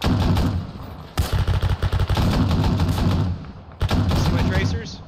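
Rapid rifle and machine-gun bursts firing tracer rounds in the Arma 3 military shooter, with US Marines in Takistan, loud and close in repeated volleys with brief pauses and voices under the shots.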